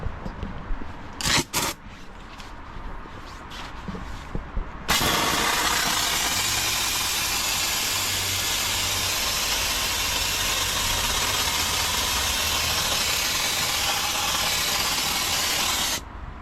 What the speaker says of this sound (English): then what I will do is get my steamer. It's the Karcher, I believe they call it an SC3